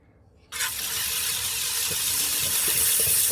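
Water sprays steadily from a spray bottle onto an intarsia flat lap, a sudden near hiss that starts after a brief quiet and then holds loud and even.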